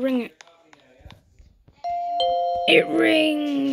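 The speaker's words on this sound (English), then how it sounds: "I'm gonna go ring it." A doorbell in the Roblox game Bloxburg chimes once with a ding-dong tone, clear and close, after a player speaks and with excited talk over its ring.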